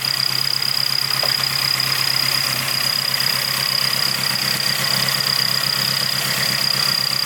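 A 20-valve engine in an AE86 Levin idles steadily, a close, continuous low rumble with a faint high whine running through it and no talking.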